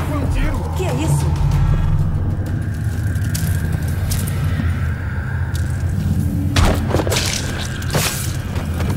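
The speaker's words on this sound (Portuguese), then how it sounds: "Isso foi um tiro!" A gunshot rings out in the video game Dishonored 2, a sharp boom rising out of a dense, continuous bed of game ambience and rumbling low sound.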